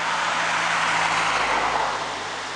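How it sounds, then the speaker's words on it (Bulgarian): A river flowing along in a winter setting near a village, a steady broadband rush of water, loud and close throughout with no talking. "Реката си шумоли"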